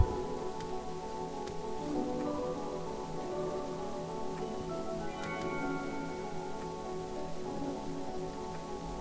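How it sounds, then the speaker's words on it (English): Hail falls steadily in the video game Orcish Inn, a dense, even patter like heavy rain on a roof, continuous for the whole stretch, with faint game tones and a few soft clinks over it and no talk. "Now if the hail can just clear up"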